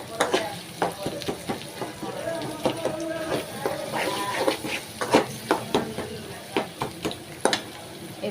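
Eggs scrambled and stirred in a frying pan for noodles, a steady sizzle under repeated sharp scrapes and taps of the utensil against the pan, with a voice speaking throughout.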